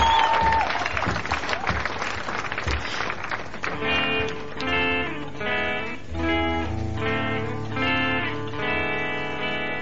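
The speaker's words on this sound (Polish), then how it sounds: "wielkie brawa!" Enthusiastic audience applause on a radio show greets a singer, a dense crowd clapping loudly at first, then music with a sung melody rises and the clapping fades beneath it.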